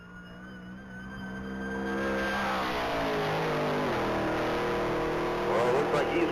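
A 1964 Pontiac GTO accelerating hard in a Texas Mile top speed race, its engine note climbing through rising gears from a distance to a loud, sustained roar, with faint voices in the background.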